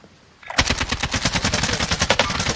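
Rapid automatic gunfire in the Warzone video game, a loud sustained burst of closely spaced shots starting after a brief quiet moment, with no talking.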